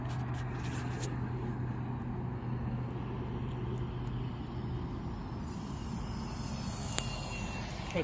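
A Flite Test Mini Scout RC airplane's electric motor drones steadily at mid throttle, with a brief rise to full throttle near the end, heard outdoors at moderate distance with no talking.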